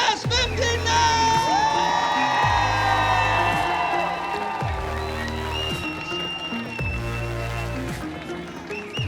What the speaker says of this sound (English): let's give one more big round of applause for Class 59!